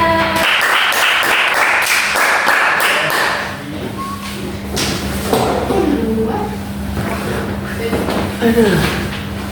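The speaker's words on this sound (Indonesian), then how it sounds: "Tepuk tangan ya." Classmates clap for a group presentation during a science lesson on light, a short burst of applause in the first few seconds that quickly fades as a student begins talking over a steady background hum.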